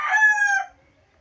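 A single rooster crow rings out close and loud, lasting about half a second before fading into silence.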